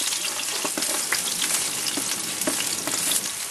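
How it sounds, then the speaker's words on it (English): Tomato and garlic sautéing in a pan for guisadong ampalaya (bitter melon): a close, steady sizzle and crackle of frying with faint stirring scrapes, no voices. "Then we will add our tomato and just saute it for 3 to 5 minutes."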